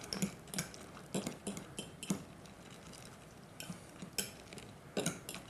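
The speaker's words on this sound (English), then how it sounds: "take this fork here, stir this up real good together" A fork clinking against a bowl while stirring cranberries with bacon bits, a series of light, irregular metallic taps close up and fairly quiet, with no talk.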